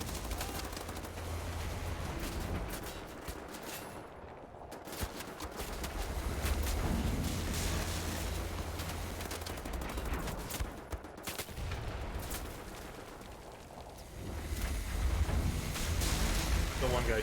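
Gunfire rattles through combat in Wolfenstein: The New Order, dense bursts of shots layered over a continuous roar of game noise, with voices talking at times over the action.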